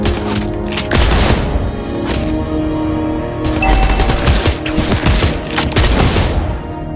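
Rapid gunfire from the hero Clint in a mobile battle arena game, dense bursts of shots rattling continuously with booming impacts, loud and close, without speech.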